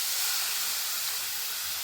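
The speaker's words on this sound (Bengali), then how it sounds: "এই অবস্থাতে আমি এর মধ্যে দিয়ে দিচ্ছি লিকুইড দুধ।" Liquid milk hits semolina that has been fried in ghee, giving a loud, steady, broadband hiss like escaping steam that holds evenly throughout, with no talk.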